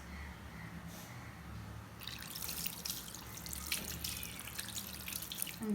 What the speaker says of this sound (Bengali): এখন হাতটা ধুয়ে পানি দিয়ে দিচ্ছি